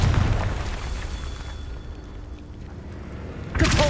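A Confringo blasting spell goes off in Hogwarts Legacy as one heavy, close explosion with a deep rumbling boom that fades over a few seconds before another burst starts at the end.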